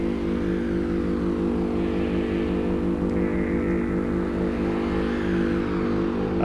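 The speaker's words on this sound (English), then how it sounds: "what you're hearing here is the primary and secondary oscillators playing" Low, buzzing synthesizer drone from primary and secondary oscillators with layered sustained tones, holding steady throughout, faint sweeping upper tones drifting above it.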